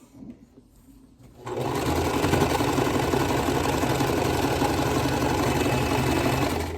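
An inexpensive home sewing machine stitching a quilt starts up after a quiet moment and runs continuously with a loud, steady, rapid mechanical hum close by.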